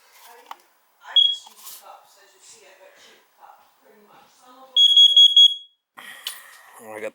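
A handheld gas leak detector checks a gas furnace, giving a brief high chirp and later a rapid run of piercing beeps, with a voice talking between them.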